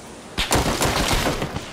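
Gunfire in PlayerUnknown's Battlegrounds (PUBG): a rapid cluster of sharp, loud shots cracking out one after another over about a second and a half, with no voices.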